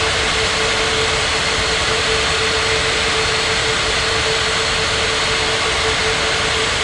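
Jet airliner taking off in the Unmatched Air Traffic Control game, a loud steady roar of jet engines with a sustained whine, continuous and alone with no talk.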